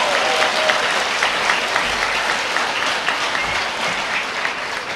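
Families fill a hall with steady, continuous clapping for graduating seniors at a high school awards night, dense and even throughout with no voices standing out.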